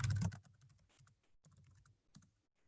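Fingers tap quickly on a computer keyboard while writing a demonstration script, starting with a loud cluster of strokes and then continuing as soft, irregular clicks close by, with no talking.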